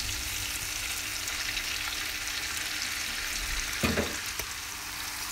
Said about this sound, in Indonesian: Masukkan bumbu yang sudah dihaluskan. Terasinya masuk di sini ya, sambil digoreng.